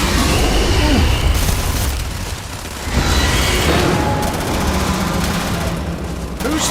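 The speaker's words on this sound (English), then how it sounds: "Who's throwing the grenades around here?" Grenade explosions in the video game Starfield: loud, dense booming blasts and rattling gunfire-like bursts fill the whole stretch, with heavy low rumble and a brief dip in intensity partway through.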